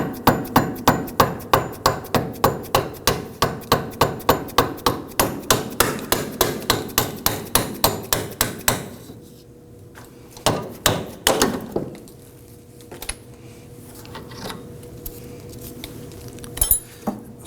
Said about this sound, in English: I'm going to go ahead and use a punch here to go ahead and tap our bolt out.